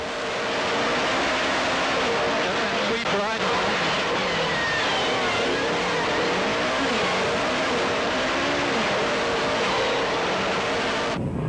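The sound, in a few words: rally car racing on a stage, Tour Natal 2003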